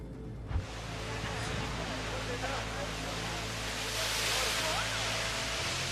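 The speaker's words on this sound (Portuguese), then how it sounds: "Pode-se observar infinitamente as ondas do Oceano Atlântico, quebrando nas costas de Portugal." Atlantic Ocean waves break on the Portuguese coast in a continuous broad roar of surf, loud and steady for several seconds, with a faint low hum underneath.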